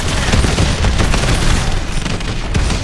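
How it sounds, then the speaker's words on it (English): Dense, continuous gunfire lays down cover fire in Call of Duty: Advanced Warfare during a fighter jet sequence, a loud unbroken roar of rapid shots and booms throughout. "Thanks for the cover fire."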